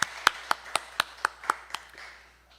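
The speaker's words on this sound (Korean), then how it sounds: "다시 한번 힘차게 박수로 격려합시다" Sparse clapping, about eight evenly spaced sharp claps from a few hands, close and crisp, tapering off with fainter claps at the end.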